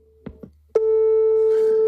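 A telephone call fails to connect: a couple of faint clicks, then a loud, steady busy-signal tone sounds continuously and close until the end.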